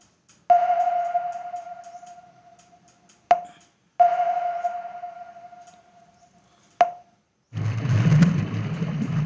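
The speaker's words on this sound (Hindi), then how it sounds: "अंडर वाटर सबमरीन के सोनार की आवाज़" Underwater submarine sonar, three clear pings each with a sharp onset and a long fading echo tail, evenly spaced, followed by a burst of low rumbling noise.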